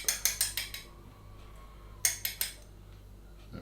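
A metal tablespoon measure scrapes and clinks against a jar of ground coriander, two quick bursts of sharp metallic taps separated by a quiet pause.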